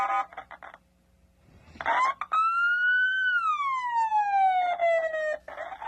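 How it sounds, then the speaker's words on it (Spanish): A single siren wail rises and falls in one long sweeping tone, loud and close, bracketed by brief bursts of noise before and after. "La sirena, güey."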